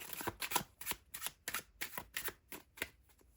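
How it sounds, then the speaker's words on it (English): Tarot cards are shuffled by hand in a quiet room: a rapid series of about a dozen soft, papery riffling bursts in an even rhythm, close and fairly faint. "One more shuffle"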